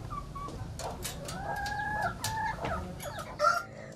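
Chickens on a poultry farm in Banjar Agung, Tulang Bawang, cluck and squawk over a steady rumbling background, with overlapping calls from several birds at moderate distance and one louder squawk near the end.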